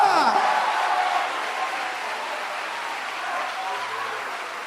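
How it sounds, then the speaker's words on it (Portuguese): Church congregation applauding with scattered joyful shouts, a moderate continuous wash of clapping and cheering that holds steady throughout. "dê um aplauso a Ele e libere um grito de júbilo"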